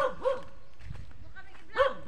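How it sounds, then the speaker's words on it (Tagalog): Near a cornfield being planted, a dog gives two sharp, fairly close barks about a second and a half apart, with quiet background between them. "bakit tahol ka ng tahol?"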